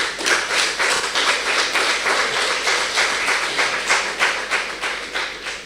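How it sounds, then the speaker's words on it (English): An audience at a community college debate competition claps after a presentation, with a rhythmic, fairly loud round of applause, many hands in near-unison beats that taper slightly toward the end. "So give yourselves a round of applause."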